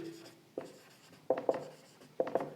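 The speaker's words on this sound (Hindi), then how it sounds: "तो यहाँ पर लिखेंगे" Pen or marker writing numbers on a board during a maths lesson, with short scratchy strokes in small clusters, close and fairly quiet, and no talking.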